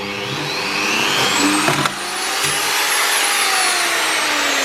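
A sandpaper wheel on a power tool whines steadily while grinding rust off metal, a loud close drone with a shifting pitch and a brief dip midway.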